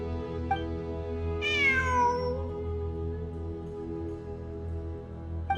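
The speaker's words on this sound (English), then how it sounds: "I'm not hearing things. It really is a cat." A cat meows in the video game Genshin Impact, one clear drawn-out meow with a falling pitch, close and distinct over a steady low background hum, with no speech.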